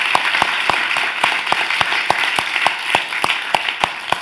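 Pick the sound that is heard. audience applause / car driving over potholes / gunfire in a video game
audience applause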